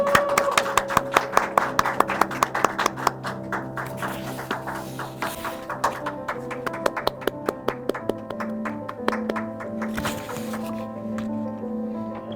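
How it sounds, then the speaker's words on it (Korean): An audience at a teacher awards ceremony claps steadily as the award-winning teachers come up to the stage. The clapping is moderately loud, with distinct rhythmic claps over a faint hum of background music. "우리 단상으로 우수사례 운영 교사들이 나올 때요, 힘찬 박수 다 같이 한번 부탁드리겠습니다."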